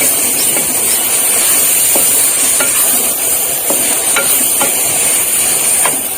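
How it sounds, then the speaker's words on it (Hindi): Minced meat roasts in a cooking pot, a loud continuous sizzle and steamy hiss with intermittent clicks and scrapes of the spoon stirring, close up. "हम 10-15 मिनट तक भुनाई कर लेते हैं।"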